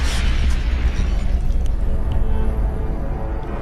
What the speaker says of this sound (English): allows players to unleash 8 mini nukes at once for maximum devastation